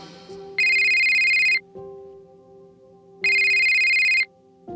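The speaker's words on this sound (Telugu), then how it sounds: "ఇంతలో ఆకాష్ భోజనం చేస్తూ ఉండగా అతని మొబైల్కి మీరా నుండి కాల్ వచ్చింది." A mobile phone ringing with an incoming call: two bursts of a bright electronic ringtone about a second each, separated by a pause, heard clearly alone over faint background tones.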